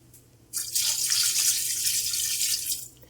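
About a glass of water pours into a pot of beef tikka masala, a steady close splashing rush that starts abruptly and runs for a few seconds before tapering off.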